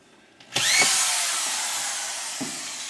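A power drill drives screws into drywall sheets, a sharp whirring burst that starts abruptly and runs steadily for about two seconds, close and loud, with a brief knock near the end.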